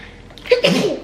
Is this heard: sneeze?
yes